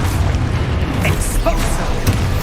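Confringo spell in the video game Hogwarts Legacy, dense booming bursts and pops layered over constant low rumble of magical combat, loud and close, with a voice calling out beneath the effects.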